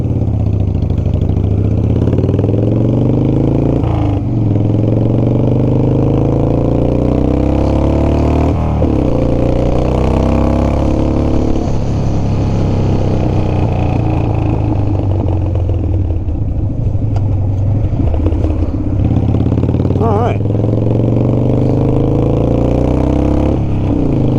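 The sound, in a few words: Harley-Davidson FXR motorcycle engine running and taking power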